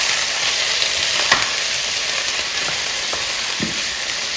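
Broccolini sizzles steadily in hot butter in a pan, a dense even hiss broken by a few soft scrapes and taps of stirring, close and with no voices.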